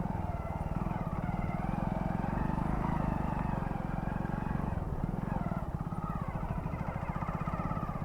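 A Hero Splendor motorcycle's engine drones steadily and closely as it rides along a small road near the Mahisagar river in Vadodara, with a constant rhythmic putter throughout.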